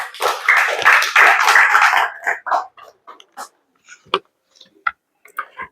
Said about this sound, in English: Hand of applause.